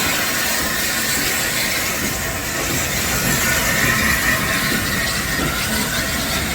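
Steam locomotive 71000 Duke of Gloucester at a Severn Valley Railway spring steam gala, a steady broadband roar and hiss of steam and rail running continuously, fairly close and loud, with no talking.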